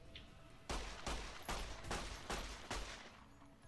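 Shooting from the hip in a post-apocalyptic video game: five or six loud, evenly spaced gunshot bursts ring out in steady rhythm over a quiet background.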